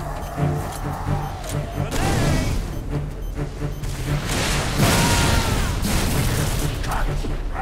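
A frag grenade goes off in a first-person shooter video game, with heavy booming blasts over continuous battle noise and gunfire.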